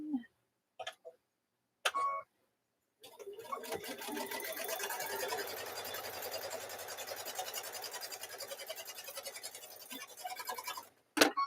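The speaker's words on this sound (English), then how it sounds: "take that second square and fold it over, and then you stitch down there" A sewing machine stitches quilt block squares in a steady, fast mechanical run lasting several seconds, set between short bursts of handling clicks and bumps at the start and end.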